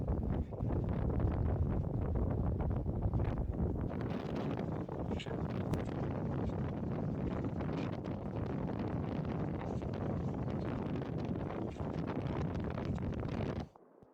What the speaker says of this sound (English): it's getting pretty windy and pretty cold